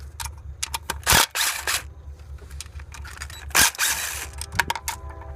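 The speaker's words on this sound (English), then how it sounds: "Unbolt the little bolts that hold down the fuel line." Small bolts being undone on the fuel line of an Audi 3.2L FSI engine, a series of short close ratchet clicks and mechanical rattles in separate bursts.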